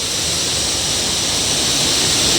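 Ganda Falls on Dinagat Island pours in a loud, dense, unbroken roar of rushing water, close and steady throughout with no voices.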